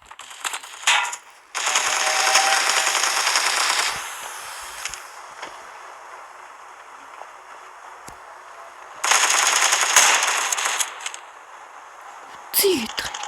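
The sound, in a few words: sniper rifle gunfire in a video game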